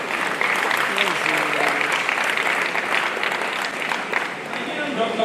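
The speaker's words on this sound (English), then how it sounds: "I think a round of applause for our consultants in Ekiti." Sustained audience applause at an MBBS induction ceremony for medical students in Ekiti, a dense steady wash of many hands clapping at full level throughout, with faint voices murmuring underneath.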